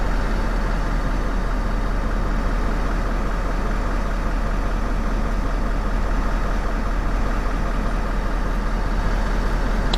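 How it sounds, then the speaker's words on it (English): A truck's engine idles steadily to raise its rear air suspension, a constant, loud, low rumble that holds unchanged throughout with no voices. "I've just fired the engine up to level it off"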